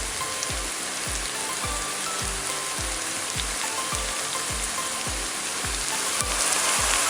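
Nuts and raisins frying in a pan for watermelon kesari give a steady, loud crackling sizzle, with regular low thumps of stirring about every half second throughout.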